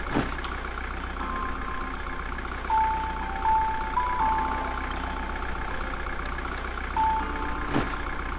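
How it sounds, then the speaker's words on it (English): A loud car engine idles in the horror game The Closing Shift by Chilla's Art, a steady droning rumble with intermittent tonal beeps and a sharp transient near the end, heard alone without talk. "Your car is really loud, buddy."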